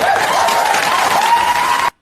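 An audience at a comedy show bursts into loud, dense applause that holds steady for about two seconds, then cuts off abruptly.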